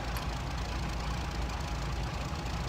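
An aircraft engine running steadily in the IL-2 Battle of Stalingrad flight sim, a continuous rough knocking drone with strong low rumble, quiet and unchanging throughout.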